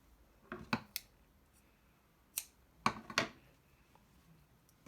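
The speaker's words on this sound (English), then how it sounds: "I'm going to cut these tails off." Scissors snip yarn tails off a banana pom pom, giving a few crisp, quiet cuts: a pair of quick snips, a lone snip, then a close cluster of three against near silence.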